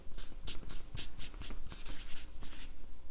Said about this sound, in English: Let me write that down here.